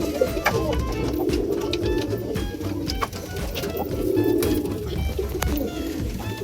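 Pigeons in a loft during breeding season coo in soft, repeated low throaty calls, several birds overlapping continuously and fairly close.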